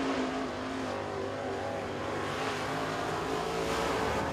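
Crate late model race car on a qualifying lap at Crossville Speedway, its engine a continuous loud buzzing roar with a steady harmonic whine, heard at a distance across the track for several seconds.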